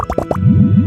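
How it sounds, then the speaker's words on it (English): Lizard tails, fish scales, mucus and slime condensate drop into a drink in the video game Genshin Impact, with four quick, close, wet plops in a row followed by a fizzing, bubbling swirl. "I'm gonna add all the remaining ingredients."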